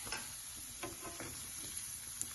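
Diced Spam frying in oil for fried rice: a soft, steady sizzle runs throughout, with a few faint pops and crackles and no voices.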